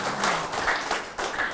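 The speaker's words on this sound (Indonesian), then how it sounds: "Tepuk tangan untuk Mas Jati Seputro ya." A crowd at an Indonesian community event in Singosari applauds for Mas Jati Seputro, a steady wash of clapping that swells and dips slightly over its short length.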